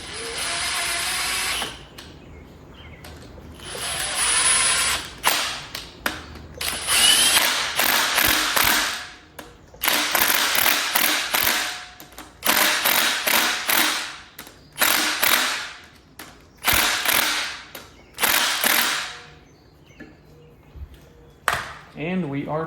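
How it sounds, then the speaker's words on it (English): A torque wrench tightens bolts during a 5.3-litre truck engine cam install, heard as bursts of ratcheting clicks and mechanical rasps in uneven runs, close and loud, with pauses between them. "Get the torque wrench back out."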